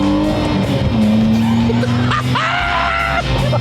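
A classic BMW with a swapped-in engine pops and crackles on overrun, loud and close, with shifting engine tones over continuous road and wind roar.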